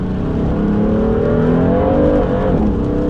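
Lowered BMW F80 M3 with a Bootmod3 stage 2 tune spinning its rear wheels on a wet road, a loud, close, steady engine drone rising and falling slightly as revs climb.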